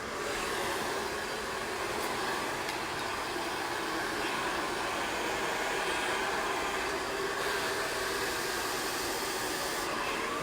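A hair dryer blows steadily while a bob haircut is dried with a brush, a loud, continuous broadband whoosh that holds nearly unchanged throughout.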